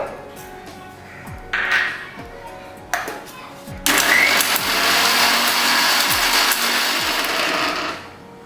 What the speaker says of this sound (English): I will grind the oats in a mixer grinder